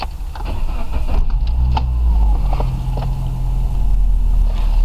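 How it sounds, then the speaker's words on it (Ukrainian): A Suzuki Grand Vitara 2.0 running on LPG starts up at close range: a short starter crank gives way to a steady, loud engine idle with a deep low rumble throughout. "Заводимо автомобіль."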